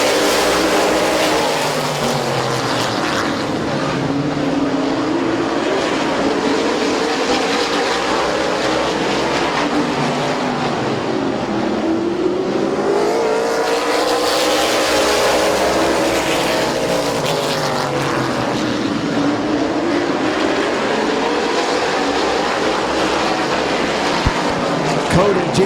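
Stock cars roar around Midvale Speedway during an eight-lap heat race, engines droning loud and continuous with rising and falling passes as the field circles, a track announcer talking over the noise throughout.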